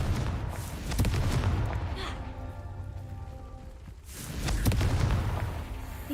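Fiery Confringo spell explosions in Hogwarts Legacy, two loud rumbling bursts with crackling debris, separated by a quieter stretch of lingering hum.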